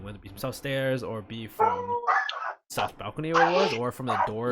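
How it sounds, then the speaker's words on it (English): Dogs bark and yip repeatedly in the background while someone talks steadily over them. "Sorry about the dogs."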